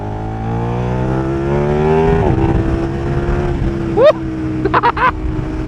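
KTM 1390 Super Duke R Evo motorcycle engine pulling hard, a steady loud drone climbing through the gears, then sharp rising revs and a couple of quick blips near the end, heard from the rider's position.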